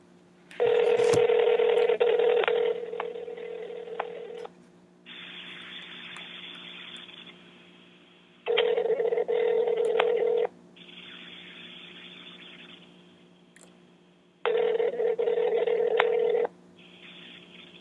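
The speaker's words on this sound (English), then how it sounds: "I'm going to get him on the phone right now." Outgoing phone call: a brief burst of dialing tones followed by a repeating ringback pattern, a long buzzing ring then a pause, cycling several times at moderate volume.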